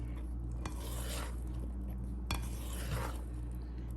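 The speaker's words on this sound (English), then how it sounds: "And then I'm just gonna fold those pecans in to the batter like this." Pecans being folded into blondie batter in a mixing bowl, giving a steady low scraping and stirring hum with a couple of soft spoon-against-bowl knocks, close and fairly quiet.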